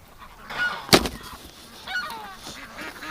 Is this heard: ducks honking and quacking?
yes